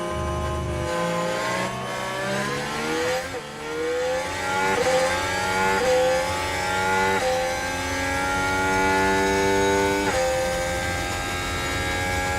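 Formula 1 cars racing at Monza, Italy, in the F1 Manager 2013 video game, engines droning loud and steady as rising gear-by-gear revs sweep upward, several cars blending in a continuous high whine with no talk.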